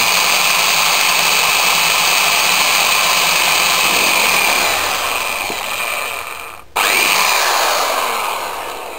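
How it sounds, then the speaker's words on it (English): A power drill bores a pilot hole in a motorcycle while fitting crash protection sliders. Its loud, steady whine runs close up for most of the clip, cuts out briefly near the end, then starts again. "just drill the pilot hole out"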